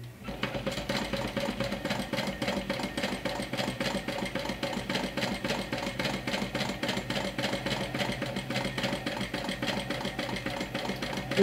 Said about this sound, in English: So I'll stitch it down first on the edge. Go slowly because it's a curved edge.